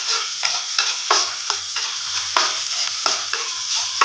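Garlic and onion sauté in hot oil in a pan, a loud continuous sizzle broken by regular scraping stirs of the utensil against the pan, close up with no talking.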